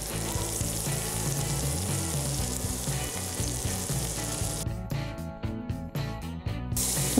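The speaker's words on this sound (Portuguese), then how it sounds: "Assim que ela derreter, eu vou juntar 2 dentes de alho picadinhos." Minced garlic sizzles in melted butter in a frying pan, a steady loud crackling hiss that breaks into quick scraping stirs near the end, with no voices.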